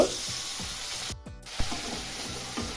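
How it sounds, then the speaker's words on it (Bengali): Diced potatoes fry in hot oil left from frying eggs, a steady hiss with repeated soft scraping strokes as they are stirred and a brief hush partway through. "আমি দুটো আলু ডুমো করে কেটে রেখেছিলাম, ওই তেলের মধ্যে দিয়ে ভেজে নিব"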